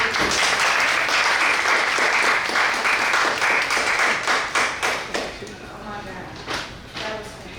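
An audience gives author Crystal Wilkinson a round of applause after a reading, full clapping that thins into scattered individual claps toward the end, with talk mixed in.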